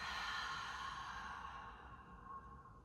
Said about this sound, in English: slowly deep breath in, big open mouth exhale